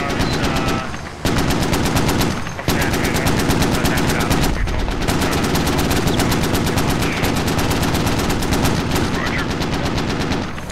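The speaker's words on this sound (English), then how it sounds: "these 50 cal's putting down a lot of fire" Heavy .50 caliber machine gun fire in a military squad video game, long loud rapid bursts of evenly spaced shots that continue almost without pause, broken by a couple of brief gaps.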